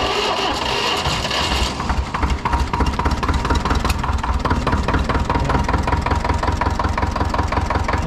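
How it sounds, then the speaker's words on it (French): A farm tractor engine cranks and catches after about two seconds, then settles into a loud, steady, knocking idle with an even rapid pulse. "il faut d'abord que je mette le tracteur en route"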